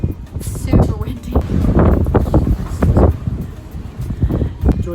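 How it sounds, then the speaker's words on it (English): Strong wind buffeting the microphone outdoors by a van under construction, heavy gusty rumbling in irregular bursts, loud and close, with voices partly masked beneath it. "Super windy."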